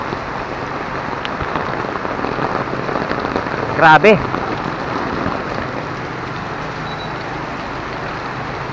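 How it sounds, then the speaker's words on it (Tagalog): Heavy rain pours down steadily during a storm in Baler, a dense wash of noise filling the whole stretch, with a brief spoken exclamation partway through. "Sobrang lakas ng ulan. May bagyo ngayon eh."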